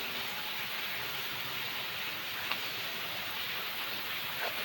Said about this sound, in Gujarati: તો મિત્રો જોઈ લો કેટલો મસ્ત વરસાદ આવે